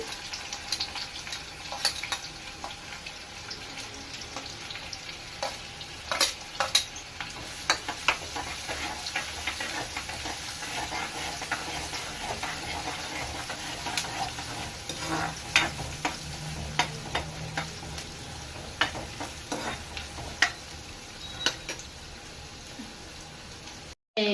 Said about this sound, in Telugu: ఇదిగోండి ఉల్లిపాయలు వేస్తున్నాను